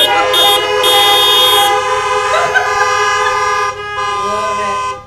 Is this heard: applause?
no